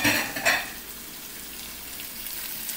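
Bell peppers dropped into a hot pan for tomato-confit pasta, a brief clatter and burst of sizzle at the start easing into a steady, soft frying hiss.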